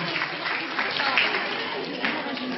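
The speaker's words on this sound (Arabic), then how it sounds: "عطونا تصفيق حارة" Audience applause at a live cultural evening with a singer on stage, a steady wash of clapping from a crowd that holds at an even level throughout, with voices mixed in.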